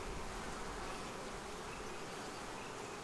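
Honey bees buzz around an open beehive in a dense, steady hum that fills the whole stretch evenly, with no voices over it.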